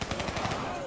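Rapid automatic gunfire in Call of Duty Black Ops III as a player shoots down vats, a loud, steady burst of close shots lasting under a second.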